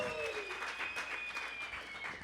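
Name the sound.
applause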